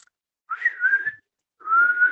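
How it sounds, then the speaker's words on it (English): Two clear whistles, each about a second long, slightly wavering in pitch, with a short silence between them. "they're whistling when the girl looks pretty"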